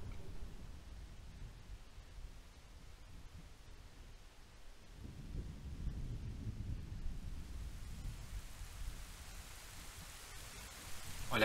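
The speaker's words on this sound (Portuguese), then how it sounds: "A chuva está apertando." Steady rain and rumbling thunder from a stormy cutscene in the video game The Legend of Zelda: Ocarina of Time, a continuous low roar of downpour that swells slightly midway, with no talking.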